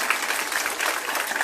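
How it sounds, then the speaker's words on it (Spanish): Applause for a teacher at a criminal justice conference session in Acapulco: a brief, even patter of clapping, moderately distant and fairly soft. "aplauso para nuestra maestra"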